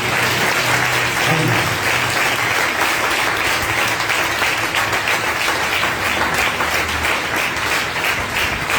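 A church congregation applauds for Jesus during a sermon by Pastor Nathaniel Iqbal, steady dense clapping from many hands filling the room, loud and continuous throughout.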